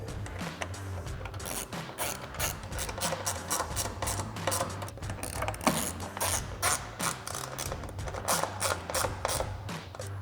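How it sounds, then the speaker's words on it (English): A ratchet and socket tighten T25 screws on a 2019-2024 RAM 1500 LED tail light, giving a rapid, continuous clicking of the pawl in quick bursts, close and fairly quiet, with no talking. "Grab our ratchet and socket and tighten them down."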